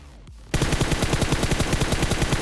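Automatic gunfire in a PUBG Mobile solo-versus-squad match, a sustained rapid burst of close, loud shots following a brief quieter moment with a faint swoosh.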